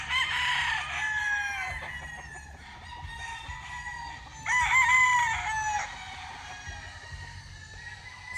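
Chickens cluck steadily on a farm lot while a rooster crows loudly and close by, its crow rising twice in long harmonic calls over the flock's busy background noise.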